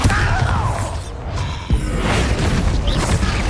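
In the Hogwarts Legacy video game, a Bombarda blasting spell goes off as a loud, dense rumbling blast. A sharp thump lands partway through, and crashing debris and magical whooshes keep going throughout.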